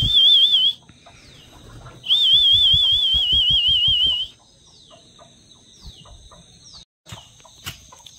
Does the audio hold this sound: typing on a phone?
no